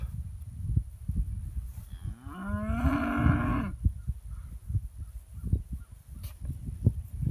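A Hereford x Angus cow lets out one loud, drawn-out moo lasting about a second and a half amid the shuffling and rustling of the herd.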